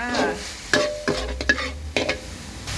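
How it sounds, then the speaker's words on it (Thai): Minced pork and chilies stir-fried in a hot pan for dry-style Thai holy basil pork, with steady sizzling and several sharp scraping strokes of a spatula at irregular intervals, close and fairly loud, with no talk. "ใส่พริกเสร็จแล้วก็ผัดต่อนะคะไม่รอแล้วค่ะ"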